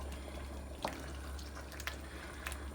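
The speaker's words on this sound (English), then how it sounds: "So it's literally just simmering now." Curry base gravy simmers gently in a pot on low heat, a faint bubbling bed broken by a few soft pops and blips, under a steady low hum.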